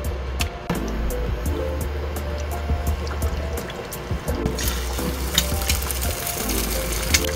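Eggs sizzle and crackle in a pan of hot oil, a steady fry with sharp pops and spatters near the microphone, briefly interrupted by clinks of utensils.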